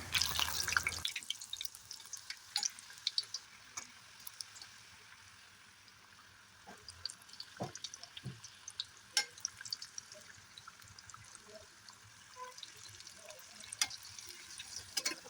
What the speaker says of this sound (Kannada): ಇದು ಒಂದನ್ನೇ ಎಣ್ಣೆಯಲ್ಲಿ ಬಿಡ್ತಾ ಹೋಗ್ತೀನಿ ಗ್ಯಾಸ್ ಉರಿ ಮೀಡಿಯಮಲ್ಲಿ ಇರಲಿ